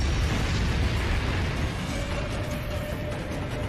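A huge blast in an animated fantasy film roars as a dense, sustained rumbling boom with crackling debris, loud and continuous throughout, no voices heard.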